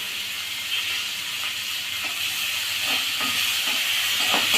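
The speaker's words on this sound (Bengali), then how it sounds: "দিয়ে পেঁয়াজটাকে ভেজে নেব" Chopped onion fries in hot oil with a little whole cumin seed, giving a steady close sizzling hiss with faint scattered crackles throughout.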